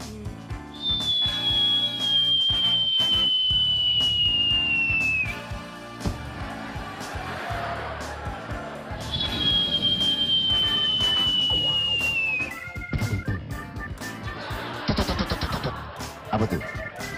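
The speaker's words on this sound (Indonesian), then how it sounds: "Bunyi, dengar macam bunyi bom." A descending whistle like a falling bomb sounds twice, each a long gliding tone lasting several seconds, set against busy background music and noise.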